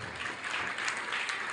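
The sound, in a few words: loud applause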